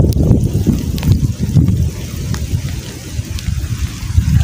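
Rain falling outdoors during eel hunting, a dense irregular patter with gusty low rumble of wind on the microphone, close and fairly loud throughout.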